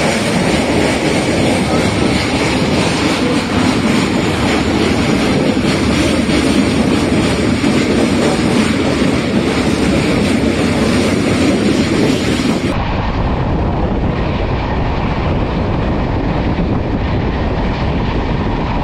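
The Howrah–Dhanbad Black Diamond Express, a new LHB-coach train, rumbles loudly across the Barakar river bridge, with a dense, continuous roar and rattle of wheels on the span that drops in level near the end.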